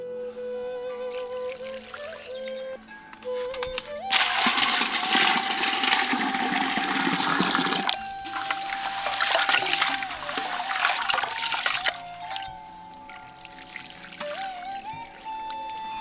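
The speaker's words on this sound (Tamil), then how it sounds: "ஒண்ணுக்கு 2 முறைன்னு தண்ணி ஊத்தி அரிசியை நல்லா கழுவிக்கிட்டாச்சு." Water poured over soaked rice and swished to wash it, with a loud steady rush of pouring in the middle stretch and quieter trickling and splashing around it, no talk.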